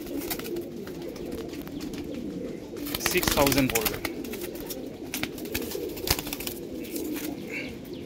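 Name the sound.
pigeons cooing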